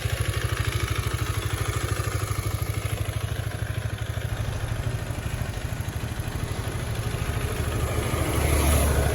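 A Husqvarna Svartpilen 250 motorcycle idles through its exhaust with a fast, even, thumping pulse, close and steady, rising slightly in loudness toward the end, with no voices.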